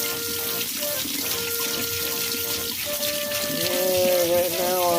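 Tap water runs steadily from a kitchen faucet into a sink, a continuous broad hiss with a rising tone near the end as a container fills, heard alone without talk.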